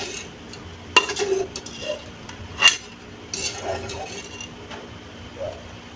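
Pancit bato noodles tossed and stirred in a pan, a few scattered scrapes and clinks of a utensil against metal under a quiet background, with soft sizzling in the pauses.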